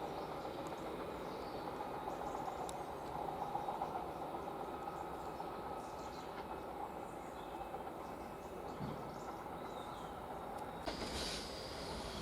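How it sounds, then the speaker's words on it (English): GBRf freight train headed by locomotive 66303 passing Westerfield railway station, a steady distant rumble of wheels and wagons with faint squeals throughout, fairly quiet and with no talk. "This is a freight train, GBRf, with Felixstowe North to Tinsey Park."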